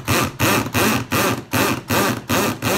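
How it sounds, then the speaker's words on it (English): Loud power drill driving a screw into wood, heard as five long, harsh whirring bursts separated by short pauses, close and with no talking. "My other drill is nowhere near this loud."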